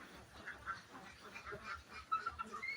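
Ducks on a duck farm quack faintly in the distance, a scattered, overlapping chorus of short calls over low background noise, with no clear talk.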